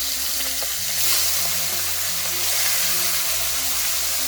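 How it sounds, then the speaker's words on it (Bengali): Shell-on prawns fry in very hot mustard oil, producing a loud, dense, continuous sizzling hiss close up with no talk. "এই পর্যায়ে চিংড়িগুলোকে ওই তেলের মধ্যে দিয়ে দিচ্ছি।"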